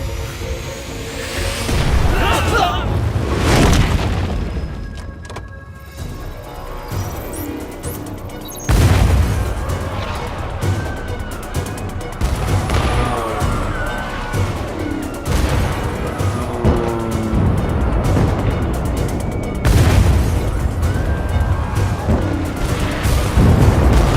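Missile launcher strikes in an action movie bring repeated heavy booms and crashing explosions, loud and close, with rumbling debris and roaring, chaotic noise filling the gaps between blasts.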